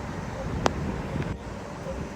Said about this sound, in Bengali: চারিপাশ দিয়ে বাতাসের শোঁ শোঁ শব্দ